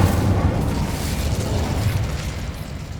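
The Incendio fire spell being cast in Hogwarts Legacy, a loud continuous roaring, crackling burst of flame that holds steady for a few seconds with no voices.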